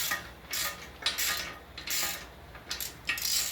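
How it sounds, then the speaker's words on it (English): A ratchet wrench turns in several short clicking bursts on a break-in stand build, the ratcheting repeating roughly every half second at close range with no talking. "get the wrench going the right way, it would help"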